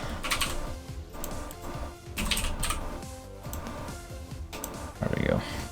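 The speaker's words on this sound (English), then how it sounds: "as soon as I finish typing this out" Computer keyboard typing in steady bursts runs close and fairly loud beneath background music, with a brief louder flurry near the end.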